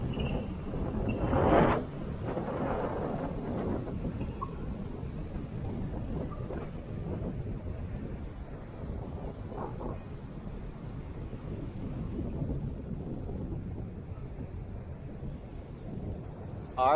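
Strong hurricane-force wind roars and buffets around a DJI Ryze Tello drone flying in fast mode, a dense continuous rush with a louder gust early on, steady throughout.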